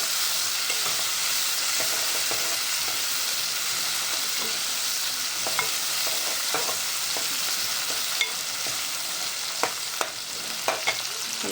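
A home-style Gujarati vegetable curry of ridge gourd and sponge gourd cooks in a pan, giving a constant soft sizzle with scattered clinks and scrapes of stirring that grow more frequent toward the end.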